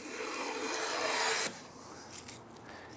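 A No. 5.5 hand plane shaving along a wooden board, one long steady rasping stroke that stops abruptly, followed by quieter handling noise and a sharp click at the end, close up.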